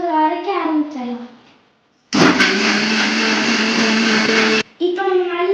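An electric blender grinds a strawberry milkshake with ice cream, a loud steady whirring drone lasting about two and a half seconds, with a voice and other talk just before and after it.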